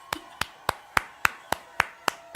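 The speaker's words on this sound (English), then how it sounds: "That's a made up applause" Mock applause made up during a livestreamed quarantine home concert: a single pair of hands clapping nine times at a steady, even pace, crisp and close, with no crowd.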